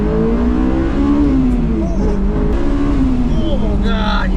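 A Honda S2000 sports car engine revs up and down from inside the moving car, a loud, sustained whine with rising and falling pitch, and a voice is heard over it.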